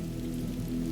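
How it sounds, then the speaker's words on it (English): Steady rain falling on the still surface of a small pond, a soft, even patter and hiss that holds at one level throughout, close and unbroken. "The surface of the water rippled softly as the rain touched it, each drop creating a perfect circle that spread outward"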